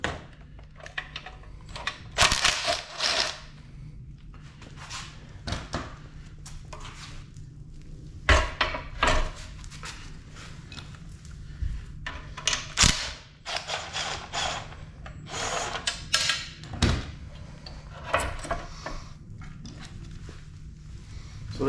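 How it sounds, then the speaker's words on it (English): Screws are backed out of a Jiffy model 30 ice auger, producing scattered close metallic clicks, taps and rattles in irregular clusters against a low background hum. "we can remove some of the screws on this"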